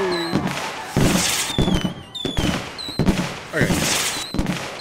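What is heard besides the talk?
fireworks in the video game The Universim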